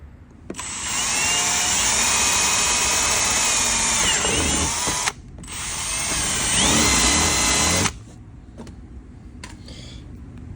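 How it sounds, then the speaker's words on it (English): A power drill bores holes for Super ATV fender flares on a Yamaha RMAX 1000, whining loudly and steadily in two long runs with a short break between them, then a few light clicks. "put a pin in, hold it in place, drill another hole"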